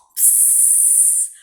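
A voice imitates snoring with one long, breathy, hissing exhale of about a second, close and loud, with no other sound around it.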